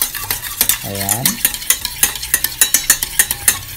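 A spoon stirs chocolate pudding mixture made with Milo in a pot, sending quick, regular clinks and scrapes against the metal; a voice speaks briefly near the start.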